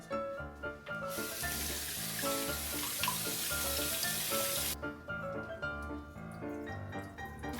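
Kitchen tap running onto an onion being washed, a bright hiss of water that starts after a second and stops near five seconds, under a steady backing of rhythmic music.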